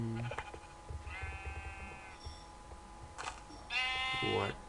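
Minecraft sheep bleating in a few short, wavering calls, the loudest near the end, mixed with game sounds and a speaking voice.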